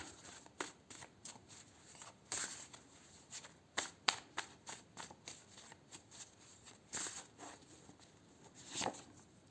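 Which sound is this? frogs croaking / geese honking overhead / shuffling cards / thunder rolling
shuffling cards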